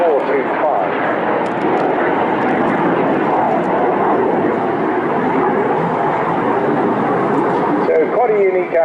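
BAC Strikemaster Mark 82 jet aircraft flying at the Bournemouth Air Festival: a loud, steady engine roar fills the air from start to finish while a commentator talks over it.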